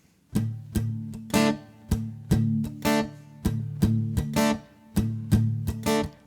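Slow, deliberate guitar strumming in a steady repeating pattern, each chord struck clearly and left to ring briefly before the next.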